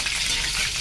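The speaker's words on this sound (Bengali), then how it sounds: "পাবদা মাছ কড়া ভালো লাগে না, হালকা ভাজায় ভালো লাগে, কড়াইটা আরও গরম হোক।" Pabda fish fries in a hot wok, giving a brief, steady, close-up sizzling hiss with no talking.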